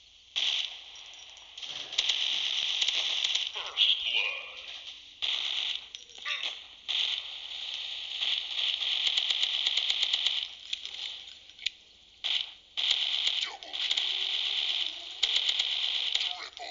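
Rapid bursts of gunfire from a shooting video game crackle in dense, repeated volleys with brief pauses between them, loud and close, with occasional voices mixed underneath.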